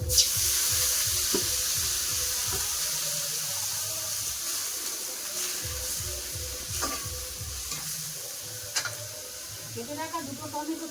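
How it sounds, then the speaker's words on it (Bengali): A splash of water goes into fried soybean chunks and masala in a hot pan, raising a loud hiss that settles into steady bubbling sizzle with stirring scrapes, while someone talks over it. "মশলা যাতে পুড়ে না যায় অল্প একটু জল দেবে"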